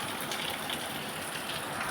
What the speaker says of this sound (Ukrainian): Ну просто сильний дощ